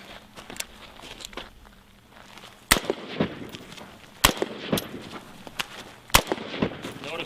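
AR-15 rifle shots ring out during a shooting drill while advancing on a target: several sharp, loud cracks at uneven intervals, with quieter movement noise and some talking between them.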